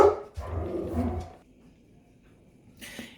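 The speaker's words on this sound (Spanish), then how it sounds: "tengo perritos y luego mis vecinos también tienen perritos, entonces si se escuchan empiezan a ladrar" Household dogs and the neighbours' dogs bark in a loud burst at the start, then fall quiet, with a brief sharp noise near the end.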